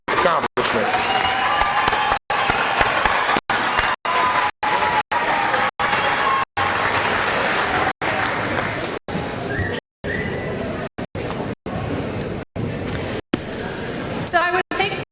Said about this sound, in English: Let's give them one more big round of applause for their academic accomplishments.